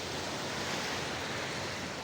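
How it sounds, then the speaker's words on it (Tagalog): Waves wash steadily onto a seashore where fishermen work, a continuous broad rushing surf with no voices. "tayo lalakad-lakad muna sa may baybay dagat"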